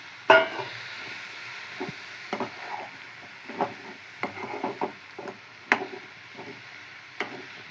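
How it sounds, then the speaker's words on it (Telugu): Ridge gourd pieces frying in a pan for a ridge gourd and moong dal curry: a soft, close sizzle with scattered spatula taps and stirring clicks, a louder knock near the start. "ఇప్పుడైతే ఇంకా బీరకాయ ముక్కలు వేసుకుంటున్నాం."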